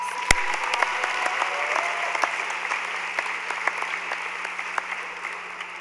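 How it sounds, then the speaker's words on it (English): An audience at a 2013 Edison high school graduation ceremony in the Rochester City School District gives the graduates another round of applause, a steady, moderately loud wash of clapping from a large crowd. "Let's give them another round of applause."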